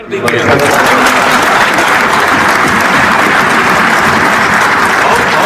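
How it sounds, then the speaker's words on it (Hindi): Applause from a crowd at a political event in Bihar, a loud, continuous clapping that swells within the first half-second and holds steady, close and dense, to the end. "नीतीश कुमार ने ताली बजवाई सम्राट के लिए।"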